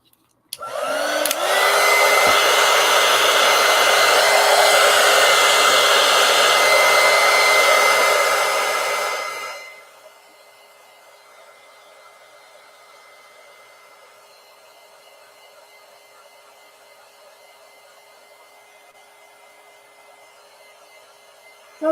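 A hair dryer drying watercolor paint, a loud steady whooshing roar for about eight seconds that cuts off and fades to a faint hum.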